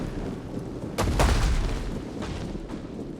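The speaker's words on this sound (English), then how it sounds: "There's more stones fly over the top. They're still hitting it." Catapult stones slam into a city wall during a siege battle in Total War: Rome 2, one heavy booming impact landing about a third of the way in, with a rumbling din of battle continuing faintly around it.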